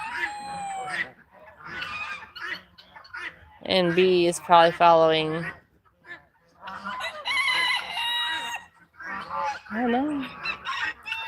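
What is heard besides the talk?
chickens clucking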